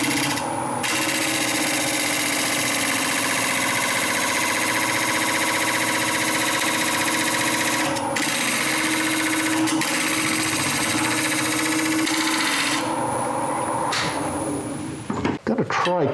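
A bowl gouge cuts into mulberry wood spinning on a lathe at about 900 RPM, giving a steady, loud, continuous scraping whir with a brief change in tone near the end.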